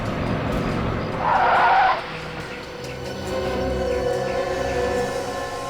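A vehicle's tires screech for a short burst near the start as it brakes hard, then a lower engine rumble carries on steadily, with no speech.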